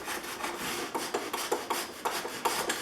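A Stanley 444 dovetail plane cuts wood against a batten board, giving a rhythmic series of close, rasping strokes, about ten in quick succession, each a short scraping burst with no voices.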